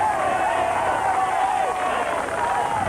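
A crowd at the Tour de France stage finish roars in a sustained, loud cheer for the winning rider, with a commentator's voice running over the steady din.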